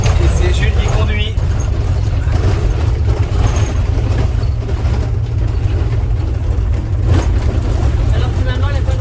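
A car driving along a dirt track in Brazil, its engine rumbling loudly and steadily from inside the vehicle with rough road noise, while people talk over it.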